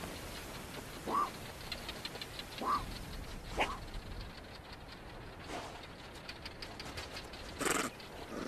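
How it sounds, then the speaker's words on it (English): Cape fox pups bark, muffled and faint, from down inside their underground den: a handful of short, sharp calls spaced a second or more apart over a soft, steady hiss. "the parents can hear the muffled barks"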